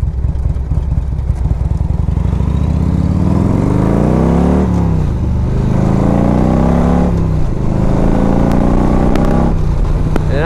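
A 1991 Harley-Davidson FLHTP engine pulls hard on a test ride, its deep rumble climbing in pitch through several gear changes, with brief dips between shifts and steady wind-blended drone throughout.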